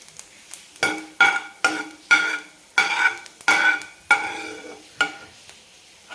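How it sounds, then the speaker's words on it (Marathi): Dry coconut being sautéed in ghee in a pan for modak filling: a steady rhythm of about a dozen close scraping stirs of a spatula, each a short gritty swish over a faint sizzle, with no speech. "आपण याला आता थोडंसं एक मिनिटभर फक्त परतून घेऊ"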